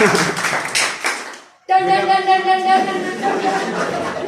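An audience claps during a school event, a brief burst of hand claps and chatter giving way after a short pause to continuing talk and music-like tones.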